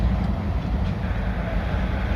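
A Grand Trunk locomotive train rolling past near Chicago, a loud steady rumble with a continuous low roar of wheels on rail.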